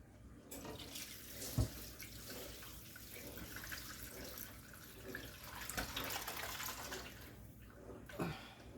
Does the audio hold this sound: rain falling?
no